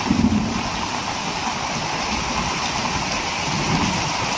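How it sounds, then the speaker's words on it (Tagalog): Heavy rain from typhoon Carina pours as a dense, steady hiss, with low rumbling thunder rolling underneath, loud and continuous and with no voices. "Lalong lumakas guys yung ano, yung ulan ni Karina. Yun, may kulog pa."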